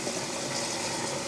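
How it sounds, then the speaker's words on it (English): Linguine pasta is being rinsed under a running kitchen tap, heard as a brief, steady, close rush of flowing water. "So giving this pasta a good rinse here."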